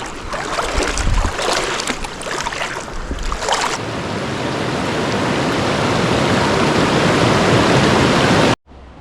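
The Guadiaro river near Jimera de Líbar flows wide past the village, a steady broadband rush of water that builds and holds, close by, ending abruptly.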